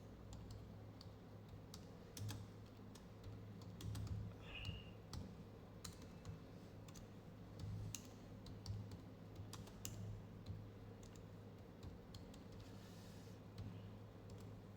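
Typing on a computer keyboard while entering text in Microsoft Publisher, soft irregular clicks and taps over a quiet low hum, no talking.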